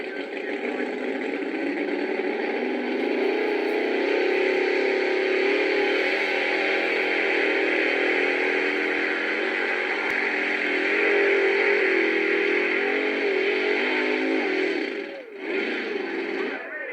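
A tractor engine pulling on a track at a steam festival drones steadily and loudly throughout with little change in pitch, dipping briefly near the end before picking back up.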